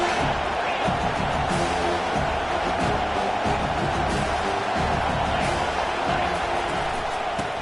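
Large stadium crowd roaring at a Clemson versus USC college football game, a dense, steady wall of cheering and noise that holds loud and continuous throughout.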